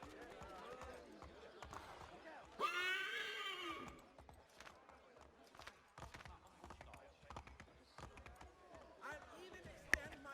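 Horse whinny in the Assassin's Creed III video game, a single loud neigh lasting about a second amid game dialogue and ambient sounds.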